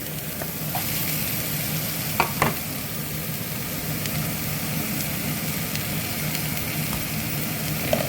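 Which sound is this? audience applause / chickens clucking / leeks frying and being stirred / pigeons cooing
leeks frying and being stirred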